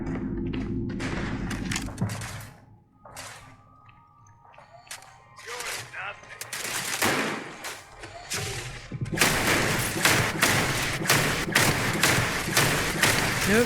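Starfield gunfire crackles through a fight, with scattered sharp shots and thuds early on giving way to a loud, dense stretch of rapid firing near the end.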